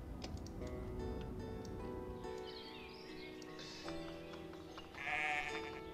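Farm sheep in the village-building game Ostriv give a few bleats over soft ambient game music and ticking interface sounds. The calls are moderately loud and close, with a stronger bleat near the end.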